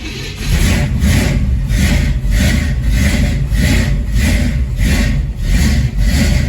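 An engine with no choke idles steadily right after a cold start, a continuous low rumble with a regular pulsing throb, close and loud, with no talking.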